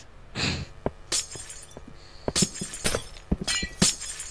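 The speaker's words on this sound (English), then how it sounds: "Nice breaking glass." Glass blocks shatter in the video game Minecraft, a rapid series of sharp, close breaking crashes, some eight or nine in quick irregular succession, with no talk.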